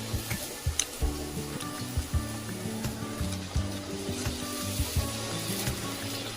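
Puris for pani puri frying in hot oil over a medium gas flame give a close, steady sizzle and bubbling hiss, punctuated by repeated soft knocks and scrapes of a utensil at a regular pace, with no talk.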